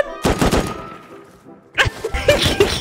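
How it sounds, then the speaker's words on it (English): Gunshots in the survival game Rust, two bursts of loud close firing with a quieter trailing stretch between them, mixed with a voice speaking. "Oh, he shot me on the outside."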